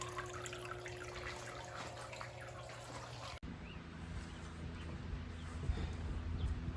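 Water flows and trickles into buckets overfilling in a greenhouse, a quiet continuous splashing and dripping close by with no voices.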